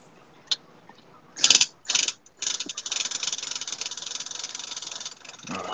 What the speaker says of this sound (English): He's drilling.